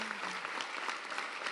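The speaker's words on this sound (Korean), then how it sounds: "박수는 이에 대한 큰 기쁨을 표하고 있다고 생각합니다." An audience bursts into dense, continuous clapping that holds steady for the whole short stretch, many hands together at an even level with no voices rising above it.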